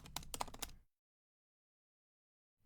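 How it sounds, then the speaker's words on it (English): Quick burst of typing on a computer keyboard while entering a name into Python code, several close, crisp key clicks in under a second, then silence. "just type your name"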